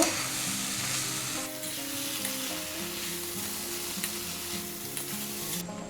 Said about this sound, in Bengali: চালটাও একটু ভালো করে ভেজে নেব